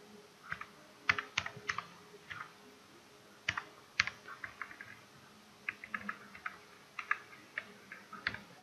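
Keys clatter on a laptop keyboard as a netsh command is typed, a quiet, uneven run of close clicks in short clusters with brief pauses, and no voices.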